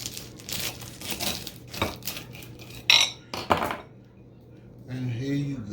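A knife cutting open an air-fried cheesesteak egg roll with onions and green peppers on a plate gives a few crisp crunches and crackles with some plate clinks. The sounds are close, and a voice is heard under and around them.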